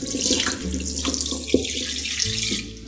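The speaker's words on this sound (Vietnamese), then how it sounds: "Sát chanh với muối xong á các bạn thì mình sẽ rửa sạch lại với nước nha." Tap water pours over pork trotters being rinsed in a kitchen sink, a close, steady gushing stream with splashy changes as the meat is moved under the flow.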